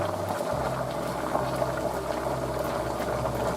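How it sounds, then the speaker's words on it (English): A pot of water with noodles at a steady rolling boil, a continuous close bubbling hiss with no talk over it. "This is going to be on the boil for a while."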